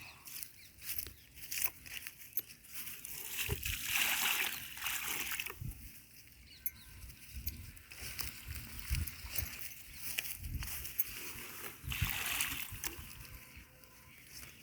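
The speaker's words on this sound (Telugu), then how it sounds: "ఎండిపోయిన దానికైతే వాటర్ పోతున్నాను" Water is poured by hand onto dried-out plants, giving faint, intermittent splashing and trickling bursts with quiet pauses between them.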